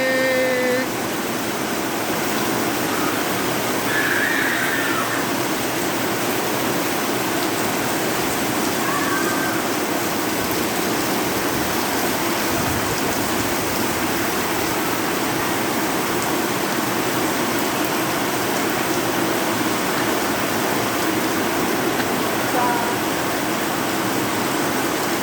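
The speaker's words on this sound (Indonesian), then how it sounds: "Hujannya besar sekali." Heavy rain pours down in a dense, steady roar that never lets up, with faint distant sounds barely poking through.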